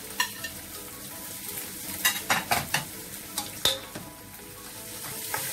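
Chopped onion sautéed in a pan sizzles softly and steadily while a spoon stirs it, scraping and clacking against the pan in irregular strokes, fairly quiet and close.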